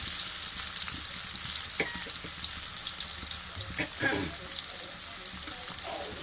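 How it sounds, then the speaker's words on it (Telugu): Onions and green chillies frying in hot oil in a kadai, a steady close sizzle with occasional stirring clinks and light bubbling. "ఆయిల్ హీట్ వచ్చింది ఆనియన్స్ అండ్ మిర్చి కూడా వేస్తారు"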